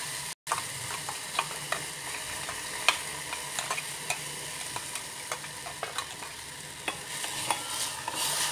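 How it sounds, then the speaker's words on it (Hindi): Onions frying in a pan for momo chutney, a constant crackling sizzle dotted with regular light taps and scrapes of stirring, close-up and steady after a brief dropout at the start. "प्याज ट्रांसलूसेंट होने लगा है, इसे गोल्डन ब्राउन होने तक भूनना नहीं है"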